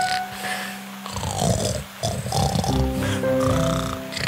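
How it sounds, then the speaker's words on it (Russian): A cartoon wolf from a fairy tale snores loudly under a tree, giving a few heavy, rasping snorts and rumbling breaths in uneven bursts, set against light musical tones. "Он так сильно храпел, что даже ветви дерева сотрясались от его храпа."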